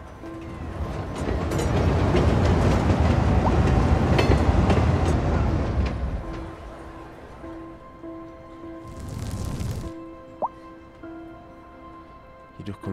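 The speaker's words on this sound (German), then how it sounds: "Jetzt müsste der Zug hochkommen." A train rolling into a station in the city-building game Cities Skylines II, a loud steady rumble of wheels for several seconds that fades away, followed by quieter tones and a brief whoosh.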